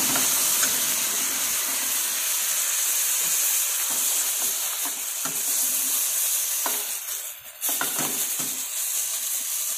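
Water poured into a pan of frying mushrooms for penne pasta, a steady loud hiss and sizzle of steam close up, with faint stirring scrapes throughout and no voices.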